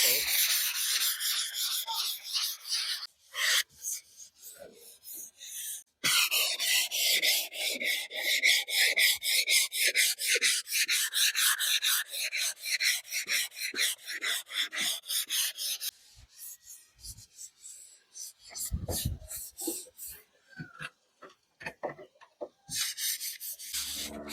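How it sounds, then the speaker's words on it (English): Sandpaper rubbed by hand across an epoxy table, a rasping scrape in long repeated strokes, loud and close, pausing briefly now and then. "I just use a sandpaper around it."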